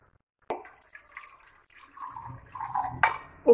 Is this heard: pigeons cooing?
no